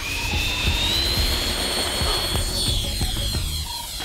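Electric ducted fan RC plane at HobbyKing Live 2017, a steady loud high-pitched turbine-like whine with rising tones and rumble as it taxis and throttles up for takeoff.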